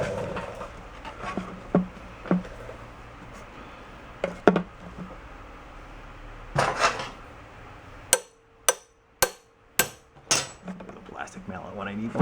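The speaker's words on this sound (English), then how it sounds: "Plastic mallet when I need one." A plastic mallet taps at a stuck carburetor on an old Kawasaki 550 generator, with scattered knocks, then a quick series of six or so sharp, close raps about half a second apart.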